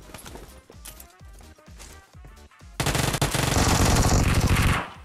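Gunfire in PUBG Mobile: a few scattered shots with clicks and rustling, then a loud, sustained burst of rapid automatic fire lasting about two seconds before cutting off.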